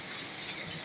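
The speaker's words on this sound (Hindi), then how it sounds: "देखिए बारिश काफ़ी ज़्यादा हो रही है।" Heavy rain falls in a dense, loud, unbroken hiss that fills the whole moment, with no voices over it.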